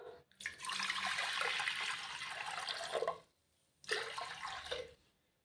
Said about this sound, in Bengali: আর ডালটা ভালো করে ধুয়ে নেবো।